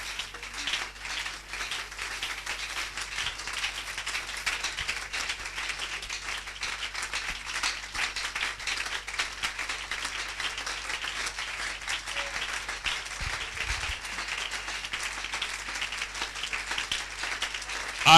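A church congregation applauding, dense continuous clapping from many hands that holds a steady level throughout and has a roomy, crowd-filled sound.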